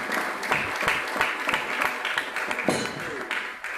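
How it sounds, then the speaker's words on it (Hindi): An audience at a film festival event claps together in dense, sustained applause, loud and close, while a presenter's voice speaks over it. "आप सब तालियां बजा करके सहयोग करें"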